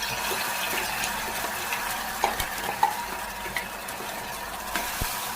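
Ground masala paste sizzles and crackles as it is stirred into hot oil for a Marathi black pea curry, with steady frying hiss and a few sharp pops and scraping clicks, close and without talk.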